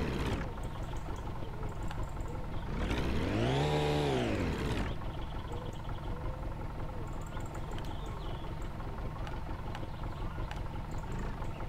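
Car engine running in the video game My Summer Car, a steady low rumble throughout with a rising and falling rev in the middle, plus faint clicks and background hum.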